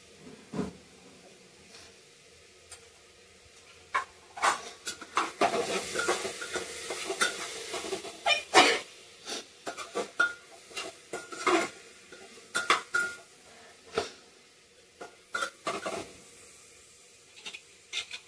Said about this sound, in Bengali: এর একটু ভাজা ভাজা করে নেব, নাড়াচাড়া করে দেবো।